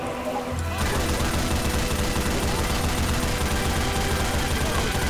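Automatic turret gunfire in Left 4 Dead 2 erupts after a brief quiet moment and then runs as a dense, loud, continuous stream of rapid shots.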